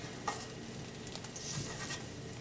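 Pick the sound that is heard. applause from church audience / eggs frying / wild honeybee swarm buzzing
eggs frying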